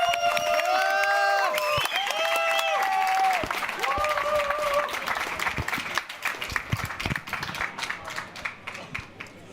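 Crowd at a Counter-Strike esports match, the Thunderpick World Championship 2024, applauding and cheering loudly in a large arena, with sustained clapping and shouts under a voice over loudspeakers.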